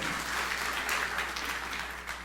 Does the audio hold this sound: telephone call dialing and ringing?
no